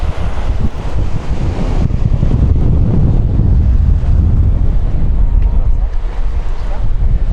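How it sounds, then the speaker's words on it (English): Cool tramontana wind blowing at a beach in L'Escala on the Costa Brava, a loud, constant roar buffeting the microphone for the whole stretch, with no voices. "You have the cool and fresh wind"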